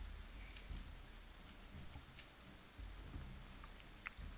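Rain falling in the medieval colony-survival video game Going Medieval, a steady soft hiss of rainfall with a low rumbling bed throughout, faint and continuous with no talk.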